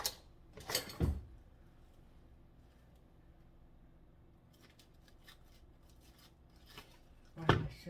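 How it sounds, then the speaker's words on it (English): Two short bursts of scissors snipping, one near the start and another near the end, with quiet rustling in between. "Oh, my scissors are terrible as well."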